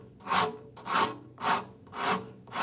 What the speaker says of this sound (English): So I'm going in with the corner of my rasp